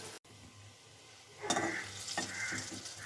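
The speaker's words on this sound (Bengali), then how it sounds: "ভাজাগুলো কিন্তু লাল লাল করে ভেজে নেওয়া হচ্ছে।" Kofta pieces of green banana fry in hot oil, a steady close sizzle with stirring scrapes and bursts of crackle growing louder partway through, no voices.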